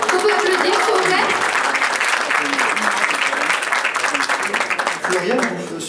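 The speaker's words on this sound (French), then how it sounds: "On peut applaudir, s'il vous plaît." Audience at a festival claps loudly and steadily for about six seconds, a dense wash of applause with a few voices underneath, easing slightly near the end.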